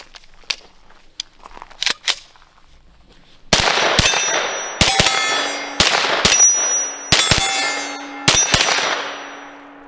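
Several loud shots from a Grand Power Stribog ring out in quick pairs and singles, each with a sharp metallic crack and ringing tail, after a few quieter clicks and handling sounds.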